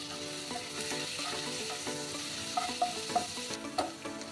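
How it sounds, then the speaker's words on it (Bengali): Chopped garlic sizzling in hot oil in a pan after brinjal has been fried, a steady close frying hiss with occasional stirring scrapes and no talking. "এবার তেলে আমি দিয়ে দেব রসুন,"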